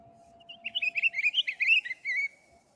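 A wild winter songbird's light, pretty trill: one quick run of high chirping notes over about two seconds, clear and close against near silence.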